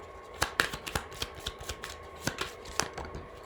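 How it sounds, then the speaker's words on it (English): Tarot oracle cards, a Fairy Oracle deck, shuffled and drawn by hand: a string of short, crisp flicks and slaps in an uneven rhythm, close and fairly quiet, with no talk. "I'll pull a few cards here"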